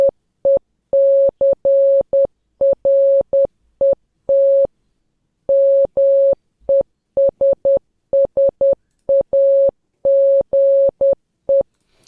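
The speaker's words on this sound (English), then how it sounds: "Morse code for secret message" Morse code beeps played back from an audio file: a single steady tone keyed into loud, clean short and long pulses with irregular gaps, heard alone with no talking.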